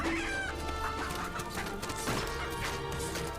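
Chickens cluck and squawk in Fable 3, with busy, dense game sound around them. A crash or whack lands near the middle.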